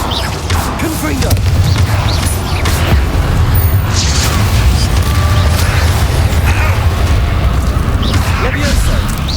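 Fiery Confringo spell blasts in the video game Hogwarts Legacy boom repeatedly over a dense, loud mix of combat effects, with a voice calling out spells.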